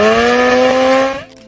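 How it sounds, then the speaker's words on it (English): The chopper motorcycle from Pulp Fiction runs with a loud, steady engine tone full of strong harmonics, holding for about a second before abruptly cutting down. "The chopper's engine note in Pulp Fiction feels clean, assertive, and cinematic."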